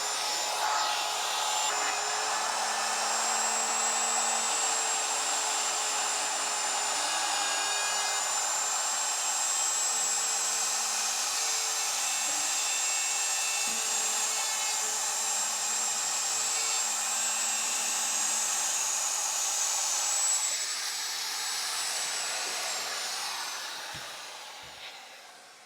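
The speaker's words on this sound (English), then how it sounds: "hold firmly, and then turn on the router" Wood router spinning steadily as it cuts an oval vent opening in a wooden cabinet pocket-door panel, a loud continuous high whine with a faint lower hum, holding for about twenty seconds before spinning down at the end.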